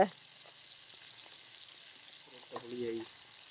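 Tamarind water poured into a pan for a Jaffna-style brinjal curry, then stirred, gives a soft, low sizzle. A few light scraping clinks of stirring rise briefly near the end.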